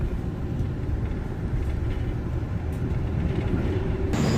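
The Taksaka night train pulls into Kroya's main station, a loud, steady low rumble of rolling railcars with faint squeals and rattles throughout and a sharper burst near the end.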